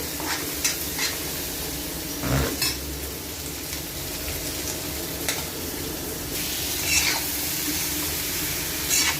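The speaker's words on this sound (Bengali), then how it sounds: "পটলও ভাজা হচ্ছে," Pointed gourd and potato pieces frying in a pan alongside shrimp: a continuous near sizzle with occasional louder stirring scrapes and clinks, no one talking.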